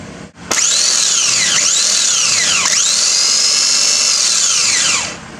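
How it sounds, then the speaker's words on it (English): Starter motor being bench-tested during a truck engine transplant, whirring loud and close in several sustained bursts whose pitch swoops as it spins up, with brief dips between runs and no talking. "let's give it a starter test."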